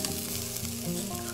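Shashlik meat roasts over a fire, sizzling loudly and steadily up close with a dense crackling hiss and a faint underlying hum.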